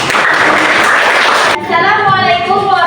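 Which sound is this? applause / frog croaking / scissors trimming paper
applause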